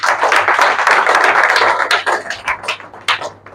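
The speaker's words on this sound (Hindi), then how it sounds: "ताली बजा दीजिए एक बार।" Audience at a church sermon clapping their hands, a dense, steady patter of many claps that thins into scattered claps toward the end.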